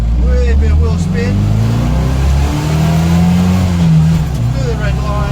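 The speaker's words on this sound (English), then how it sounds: "here we go. Wee bit of wheel spin." A Classic Mini accelerates hard with a little wheel spin, its engine loud and close, the steady drone climbing in pitch through the run with no break.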